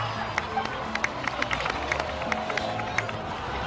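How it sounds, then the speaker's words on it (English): Scattered clapping and cheering from a small crowd in the video game Genshin Impact, busy and moderately loud, with footsteps and murmured voices mixed in. "please give another round of applause"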